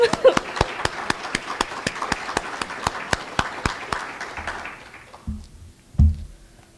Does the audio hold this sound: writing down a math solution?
no